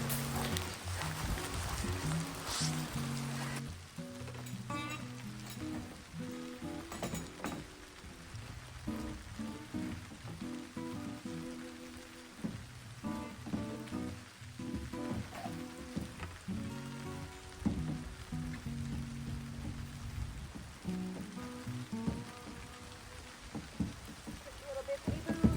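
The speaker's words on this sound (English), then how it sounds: "here comes the rain." Rain patters steadily outdoors on a solo canoe trip in the Quebec wilderness, a soft continuous hiss under intermittent movement sounds and occasional talk.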